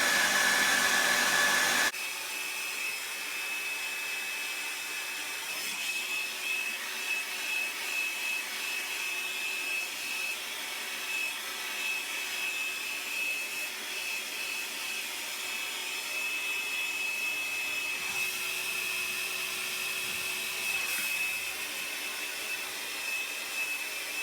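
Hair dryer blowing at a long bob haircut, a steady close whooshing roar that runs continuously after a brief louder burst at the start, with no talk.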